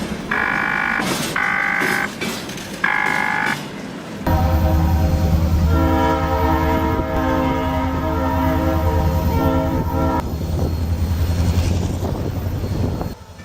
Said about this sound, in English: Wow, that steam whistle is awesome.